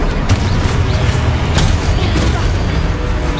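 Confringo spell explosions in Hogwarts Legacy combat rumble in a dense, loud wash of booms, with one sharp crack standing out midway.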